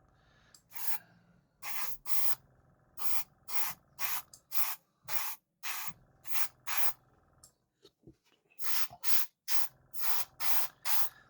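Airbrush spraying red paint onto a diecast sports car: a series of short, sharp hissing bursts in an irregular rhythm, each about a fraction of a second, with brief quiet gaps and faint handling noise between them.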